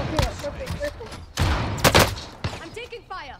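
Gunfire in the video game Call of Duty Warzone Pacific, with an AK-47 in play: several loud bursts of shots and thuds in short volleys across a few seconds, with game voice sounds mixed in.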